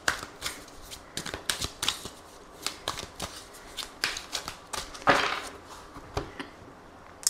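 Tarot and oracle cards are shuffled by hand in a quiet room, with repeated crisp riffling bursts and flicks in an uneven rhythm, close and clear with no talking.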